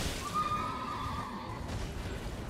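A horse whinnies in a drawn-out neigh during the Margit boss fight in the video game Elden Ring, heard over a steady background rumble with faint hoof clip-clop.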